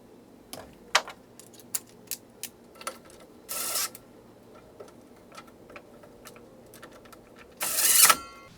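A wire is tucked in and a plastic wire cover snapped back onto a DeWalt DWS782 XPS miter saw. Small, close plastic clicks and ticks come one at a time, with two brief, louder rustling snaps.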